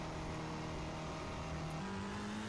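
A Ferrari racing car engine circling Monza in a racing video game drones steadily and close, its pitch stepping up slightly near the end, with no voices.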